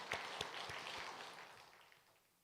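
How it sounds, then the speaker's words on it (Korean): Church congregation applauding, a burst of scattered claps that fades away over a couple of seconds. "하나님께 감사의 박수."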